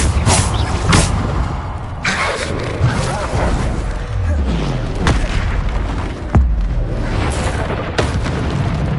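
Bombarda spell explosions in the video game Hogwarts Legacy land as repeated loud booms and bursts amid other combat spell effects, with a voice speaking between the blasts.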